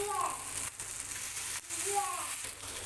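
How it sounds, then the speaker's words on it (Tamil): Kavalai fish fries on a high flame with green chillies and curry leaves, giving a steady, moderate sizzle that continues under a voice talking throughout. "ஹை ஃப்ளேமில் கை விடாமல் இந்த பச்சை மிளகாவும் கருவேப்பிலையும் மீனோட சேர்ந்து வரா போல் நல்லா வறுக்கணும்"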